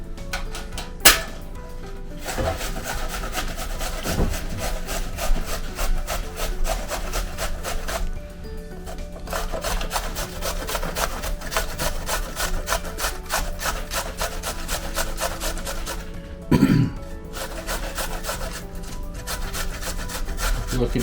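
Fresh ginger grated by hand, a continuous close raspy scraping with steady back-and-forth rhythm and a couple of brief knocks, sustained alone for about twenty seconds.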